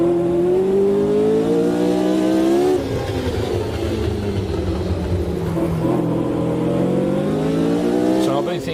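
In the video game Automobilista 2, a race car brakes and downshifts through a chicane on the Adelaide street circuit, its engine loud and close, dropping in pitch and then rising again as it accelerates out. A voice talks over the engine.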